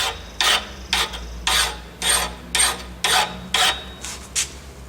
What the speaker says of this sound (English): you didn't need to see me filing anyway